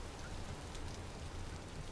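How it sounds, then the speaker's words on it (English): Steady, even rain hissing down in the survival crafting game Vintage Story, a dense continuous patter with no voices over it. "It is raining here."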